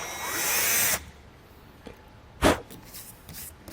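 A power drill bores holes into a 2017 Jeep Wrangler Unlimited for a Rhino-Rack heavy-duty roof rack: one loud close whine for about a second, then quiet with a short second burst.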